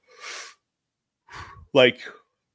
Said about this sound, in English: So I apologize for the yawns.